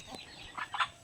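A chicken gives a few faint, brief clucks, close but quiet, with a soft background hiss.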